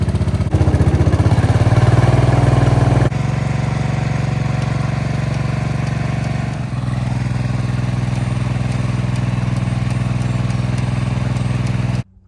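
An old lawn mower engine, just jump-started, runs close and loud with a steady idling rumble, briefly revving harder at first before settling, then cutting off abruptly.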